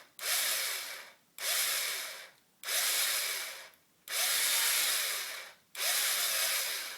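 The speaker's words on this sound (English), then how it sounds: "Drill this out." A power drill bores into a wooden dowel in five separate bursts of about a second each, a close whirring grind that starts sharply and tapers, with short quiet pauses between.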